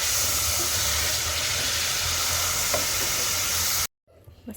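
Minced meat with garlic and ginger stir-frying in a pan, heard as a loud, dense, continuous sizzle up close with faint stirring, cutting off abruptly near the end into near silence and a slight rustle.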